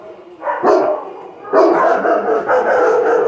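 Puppies bark in short, sharp yaps, close by and loud, in a few bursts with a brief pause between them.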